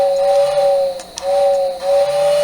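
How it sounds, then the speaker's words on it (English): A steady steam-style whistle from a Lionel model train sounds three times in a row, each long blast briefly dropping out between, loud and close. "I can then hit the whistle horn button."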